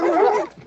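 A single short bark or yip from a cartoon dog in an animated castle scene, as two dogs tackle a boy; loud and close, then cut off quickly.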